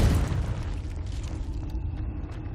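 A Confringo fire blast spell from the video game Hogwarts Legacy booms out as a loud, dense explosive burst with a rumbling low-end tail that gradually settles into sustained combat noise.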